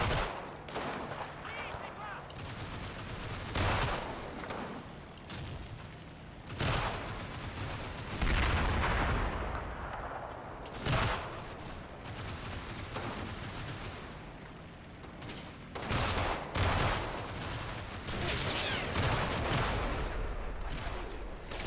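Video game combat: dense, continuous rifle and machine-gun fire with booming blasts, such as a rifle grenade, heard loud and unbroken, with faint voices underneath.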